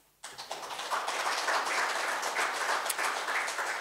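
An audience at a town hall meeting bursts into applause, a steady wash of many hands clapping that starts abruptly and holds evenly for several seconds at moderate distance.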